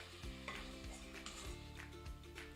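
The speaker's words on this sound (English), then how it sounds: "So cook your pork." Pork cooking in a pan for a stir fry, giving a steady close sizzle and frying hiss with a few stirring scrapes throughout.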